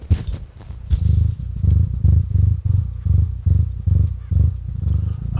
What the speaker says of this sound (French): Ça, c'est le ronron de file-moi à bouffer